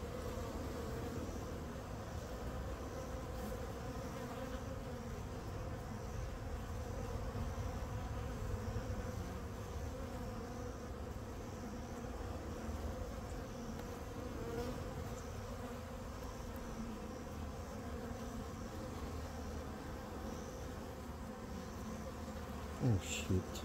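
Honey bees hum at an open hive in a dense, steady drone that holds throughout, fairly quiet, with a couple of brief knocks near the end.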